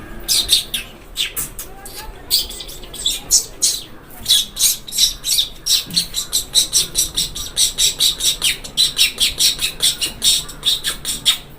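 A voice imitates a flock of cisticolas with rapid, repeated high chirps in a steady pulsing rhythm, close and loud, lasting throughout.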